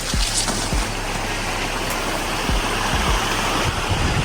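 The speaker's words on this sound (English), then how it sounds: "I'm reaching the waterfalls." The Thammarajupalli waterfall in Kurnool gives a continuous loud rushing roar of falling water, broadband and steady, with a few low thumps and rumbles mixed in.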